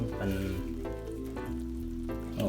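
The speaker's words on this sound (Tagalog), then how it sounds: "Pakuluan ng ganito hanggang mag-oil siya." Coconut milk boils down into oil in a pot, a soft, steady sizzle and bubbling heard faintly throughout, with a low hum underneath.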